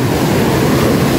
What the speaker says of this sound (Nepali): ए कस्तो बढेको खोला यार